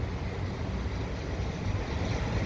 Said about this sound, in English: Rather windy day today